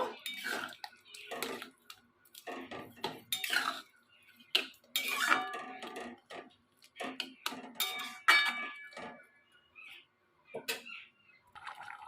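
Spoon clinks and scrapes against a cooking pot as sour curd and sugar are mixed together for a vegetarian mung dal and pointed gourd dish, in irregular clusters of bright metallic knocks separated by brief pauses.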